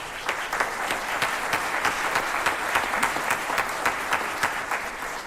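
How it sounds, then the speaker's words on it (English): Steady applause from a sizable audience at a school jazz band holiday concert, dense clapping that holds throughout at an even, fairly loud level. "Round of applause."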